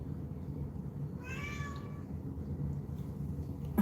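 A cat lets out a single drawn-out meow close by, rising then falling, against a low steady background hum in an otherwise quiet room.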